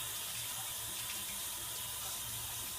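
Running water pours steadily from a tap as makeup brushes are washed with bar soap, a constant close splashing hiss with no talking.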